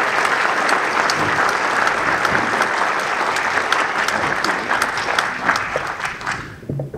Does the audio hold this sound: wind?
no